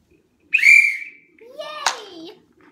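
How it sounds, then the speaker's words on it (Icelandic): A person whistles one short, bright, steady note, then a voice speaks briefly in a quiet setting. "ég flauta sko fyrir þetta"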